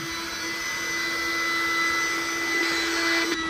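An electric air pump inflates a blow-up mattress while moving into an apartment, giving a loud, steady droning whine that runs unbroken and close throughout, with a slight rise in strength near the end.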